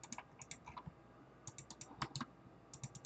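Quick sharp computer mouse clicks, in short bursts of several clicks with brief pauses, close up and fairly quiet, as a Microsoft Word document is formatted.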